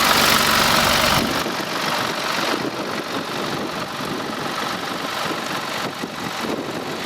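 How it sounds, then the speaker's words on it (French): A 2015 BMW 116d F20 three-cylinder diesel engine idles with the bonnet open, a steady low rumble that drops slightly in level after the first second and then holds even and unbroken. "Là on est sur le moteur 3 cylindres diesel qu'on retrouve également sur des Mini Cooper."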